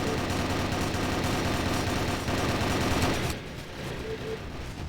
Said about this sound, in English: They're shooting through the walls on the warehouse